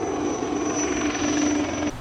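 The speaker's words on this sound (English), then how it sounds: "Today there's some kind of military exercises going on, lots of helicopters in the air." Military helicopters flying over a long tropical beach during an exercise, a steady whirring rotor drone with a high whine held throughout, fairly loud and continuous, cutting off near the end.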